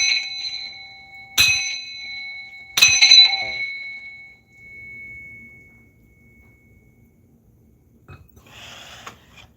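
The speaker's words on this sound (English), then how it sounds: "I'm gonna bang this bell right here to remove all negative energies and entities out of my place" A bell is struck twice, a couple of seconds apart, and each bright metallic strike rings out and slowly fades. Faint rustling and a soft clink come later.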